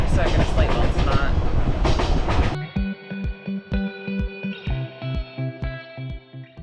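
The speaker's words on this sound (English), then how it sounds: "I would highly recommend earplugs for the night train though." Night sleeper train running on rails in Vietnam between Hanoi and Dong Hoi: a loud, dense rumble first, then steady rhythmic clickety-clack of wheels over rail joints with metallic rattling, close and continuous.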